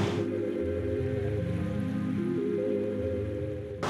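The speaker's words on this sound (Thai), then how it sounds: "ออกมาปั๊บฝนตกปุ๊บแรงขึ้นเรื่อย" Heavy rain falls in Shanghai as a steady, close, dense hiss that runs without a break, with a low tonal hum beneath it.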